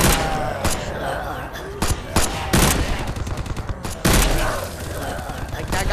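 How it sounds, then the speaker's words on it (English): Guns fire in a Gladiatus video game zombie fight with an Uzi, loud rapid bursts of shots and sharp cracks stacking over each other, with talking running underneath. "when they have guns, they shoot their teammates"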